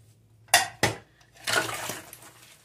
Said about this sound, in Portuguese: A gente vai lavando a louça